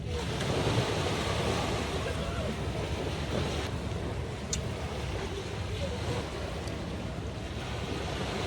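Sea waves washing steadily onto a shore, a continuous broadband rush with wind buffeting the microphone throughout, loud and close with no clear break.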